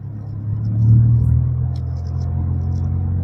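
A manual car accelerates during a driving lesson, its engine rumble swelling loud and low before settling into a steady drone, with faint voices in the background.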